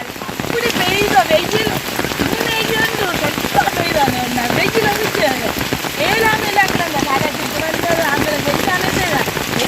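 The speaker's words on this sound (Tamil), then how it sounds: "ஆனா அதுக்கேற்ற மாதிரி இந்த மழை பெய்யுது" Steady rain pours down in Jaffna, a dense even hiss of drops on surfaces filling the whole stretch, loud and close, with no talking over it.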